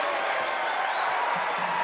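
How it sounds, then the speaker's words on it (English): Basketball arena crowd at a Bradley Braves game roaring steadily after a deep three-pointer, a dense sustained wall of cheering and applause with no break. "Listen to the crowd."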